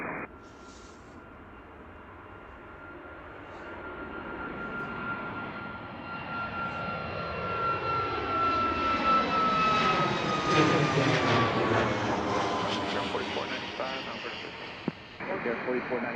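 A jet airliner takes off from Runway 1 at Washington Reagan National Airport, its engine roar swelling steadily from a distant whine to a loud, rising rumble over about sixteen seconds, with radio chatter and voices over it.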